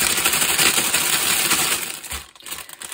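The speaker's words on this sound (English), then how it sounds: "I like the rustling because it means it's drills." Crinkly plastic packets of diamond art craft drills rustle and crackle up close, a busy handling sound that thins out near the end.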